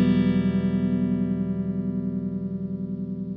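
A clean, unprocessed instrument note rings out alone, a single sustained tone decaying gradually over a few seconds with no voices.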